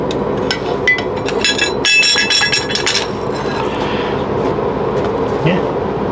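Hammer punching a hole through a metal spatula blank, a run of sharp ringing strikes close by, the loudest near the middle, over steady workshop background noise.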